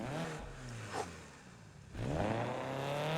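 A race car in NFS Unbound with the Unite mod cranks into life and revs, the engine note climbing and dropping through several sweeps, briefly easing off midway before surging again loud and close.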